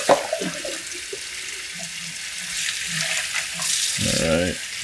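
Water running from a kitchen tap while it warms up, a soft steady hiss with splashing that swells louder near the end, with light clatter and movement around it.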